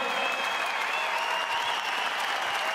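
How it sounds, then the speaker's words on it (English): A crowd at Damian Martin's Perth Wildcats jersey retirement ceremony gives a big round of applause, a thick, continuous roar of clapping with faint tonal sounds running through it for a few seconds. "I reckon we need to be upstanding to give Damian Martin one more big round of applause"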